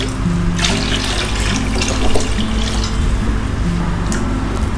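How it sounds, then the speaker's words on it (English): Steady running water pours and splashes from a tap, a continuous close hiss with no talking and a low hum underneath. "Add 2 cups of water."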